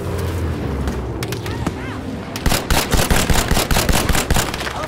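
A MAS 44 rifle in Battlefield 5 fires a rapid string of loud, close, punchy shots in steady rhythm after some scattered battlefield noise, with a voice talking beneath the shooting.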